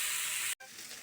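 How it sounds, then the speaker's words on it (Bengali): Shing fish frying in a pan is stirred, giving a steady close hiss of sizzling oil, cut by a momentary break before resuming. "একটু নেড়ে চেড়ে নিচ্ছি।"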